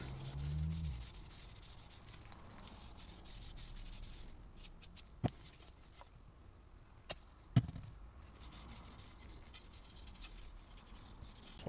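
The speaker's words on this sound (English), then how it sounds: "take a little cotton pad and I'm just gonna work it in there really good" Cotton pad rubbed steadily over a throwing axe handle to work finish into the wood, a soft, close scrubbing hiss with a few sharp taps and knocks scattered through the middle.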